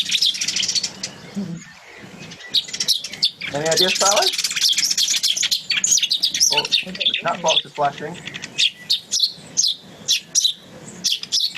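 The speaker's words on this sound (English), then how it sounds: "So down this stretch you get two types of sparrow." Sparrows chirp busily in a dense chatter of quick, bright tweets, with a person talking briefly partway through.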